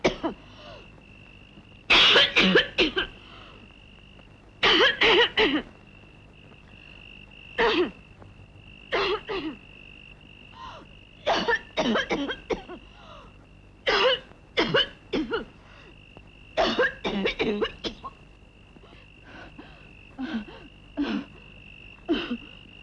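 Repeated bursts of harsh coughing in a 1981 Hindi film scene, some in quick clusters, with wheezy throat sounds between them over a faint steady hum.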